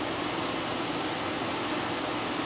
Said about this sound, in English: The combustion blower is a little bit more speed than what it really needs